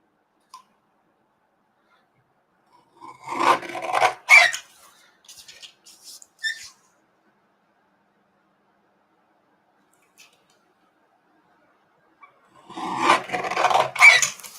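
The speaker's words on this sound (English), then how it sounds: "I'm just going to use my trimmer here, and I'm going to trim away the excess vellum." A paper trimmer slices away excess vellum in two separate passes, each a short, dry rasping cut, fairly close and loud, with quiet between them.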